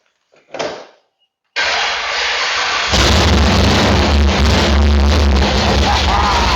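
Jet ski engine cranking briefly, falling silent, then catching and running with a loud, steady roar close by that grows stronger after a few seconds.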